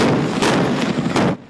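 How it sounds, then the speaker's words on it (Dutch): A carbide cannon fires on New Year's Eve in Sint-Annaland, Zeeland, in bad weather. The blast is a loud, close, booming burst that rolls on for over a second and then drops away. "Hier in Sint-Annaland werd de laatste dag van het jaar afgesloten met karbietschieten."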